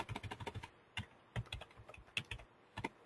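Close, quiet typing on a computer keyboard comes in quick bursts of crisp key clicks with short pauses between them.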